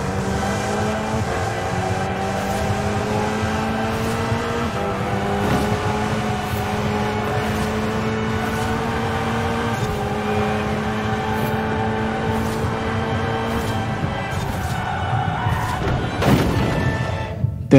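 A car engine in Forza Horizon 4 on ice, droning steadily with rising and falling revs for the whole stretch, loud and close, with a thump near the end.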